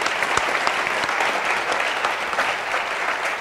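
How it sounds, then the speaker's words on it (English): An audience at a chamber of commerce legislative forum applauds its panelists with a dense, steady wash of clapping that stays loud and even from start to finish. "Let's give the panelists a round of applause."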